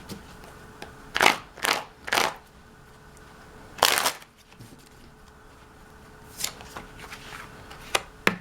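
Tarot cards shuffled by hand give several short riffling bursts spread out over a quiet room, close and moderately loud with pauses between them.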